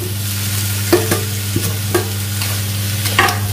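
Spice masala for a jackfruit curry frying in a pan while a spatula stirs it, giving a steady sizzle over a constant low hum, with several scraping strokes at irregular intervals.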